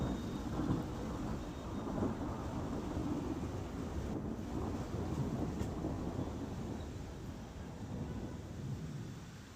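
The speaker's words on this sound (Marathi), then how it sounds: "जगलां कडकड आनी कुपांचो गडगड मारून मंगळारा गोंयांत बरोच पावस पडलो" Rain pours steadily during a storm in Goa, with a deep, rolling rumble of distant thunder beneath the wash of noise, with no voices.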